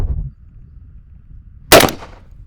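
A single sharp, loud report from an AK-platform rifle firing a 7.62x39 122-grain round at a steel target, cracking out suddenly after a low, quiet background and trailing off briefly.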